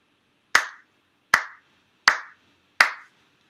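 Four distinct ritual hand claps at a Shinto ceremony ring out sharply at an even, measured pace in a quiet room, each crisp and close with a short decay, and no voices are heard.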